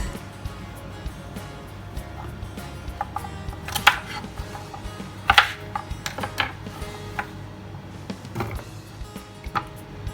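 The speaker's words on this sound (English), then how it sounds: "Here I have cut the onions in just 2 halves" A knife cuts onions into halves, giving a few scattered, crisp taps and clicks against a board over quiet room tone.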